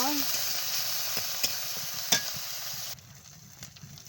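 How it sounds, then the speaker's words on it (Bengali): Continuous close sizzling of small shrimp frying in oil with salt and turmeric, with a few stirring scrapes, quieting slightly toward the end. "লবণ হলুদ দিয়ে চিংড়ি মাছটা ভেজে নেব, ভালো করে ভেজে নেব।"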